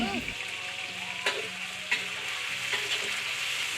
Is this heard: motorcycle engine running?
no